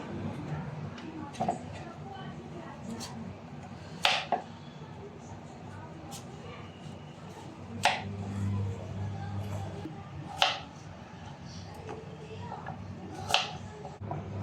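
A knife cuts through a green-skinned pumpkin for pumpkin puree, giving a few sharp, separate chopping thuds spaced several seconds apart over a low, steady room hum.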